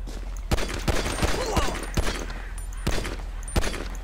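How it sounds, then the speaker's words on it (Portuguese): Gunfire in the video game GTA 5 during a favela operation: scattered sharp single shots ring out irregularly over a steady, dense background of game noise. "E eu tô dando tiro à toa, tá ligado?"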